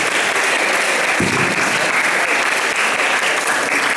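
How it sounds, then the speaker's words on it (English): A room of Grade 9 students gives a guest doctor a loud, continuous round of applause, thick and uniform throughout, with a brief low thump partway through and no speech. "let's give a round of applause to our guest."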